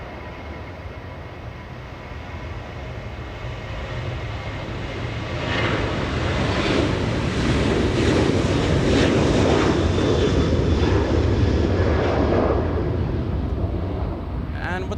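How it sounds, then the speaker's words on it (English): A Delta Boeing 737-800 takes off at Los Angeles International Airport, its engine roar building from a steady rumble into a loud, broad sustained thunder heard from a distance, with faint talk in the background. "That Delta 737 flying to Seattle, Washington, a 737-800."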